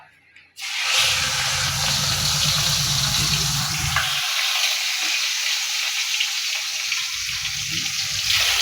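Food drops into a hot wok with a sudden loud sizzle that holds steady and close, with faint stirring scrapes underneath and no one talking.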